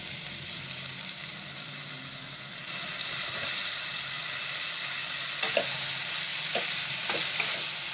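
Jowar millet khichdi with potato sizzling in a pan, with a constant hiss that grows louder partway through and spoon scrapes and taps as it is stirred, close and alone.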